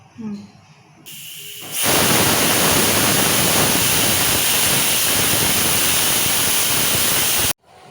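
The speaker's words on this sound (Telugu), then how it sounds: "ఇప్పుడు విజిల్ పోయింది చూద్దాం" A pressure cooker on the stove releases steam while cooking mutton for biryani, a loud, steady hiss that bursts in and continues unbroken for several seconds before stopping abruptly.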